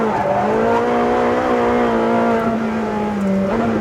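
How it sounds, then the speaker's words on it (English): Ferrari 458 Speciale, a 600 horsepower mid-engine car, power sliding on a race track: a loud, sustained engine drone held near steady pitch with a brief dip and recovery near the end, no talk over it. "big power slides in a 600 horsepower mid-engine Ferrari"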